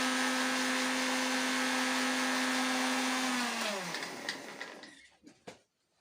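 Blender grinding kiwi and lemon into a smooth paste: a loud, steady motor whine runs for about three and a half seconds, then winds down and stops, leaving a few faint knocks.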